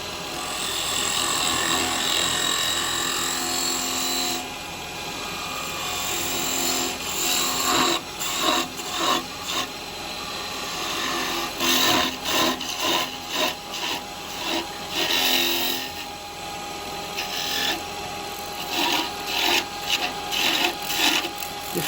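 A carbide woodturning tool nibbles at a wooden spinning top on a lathe, a close, continuous scraping and rubbing cut that swells and pulses in short bursts over the steady hum of the machine.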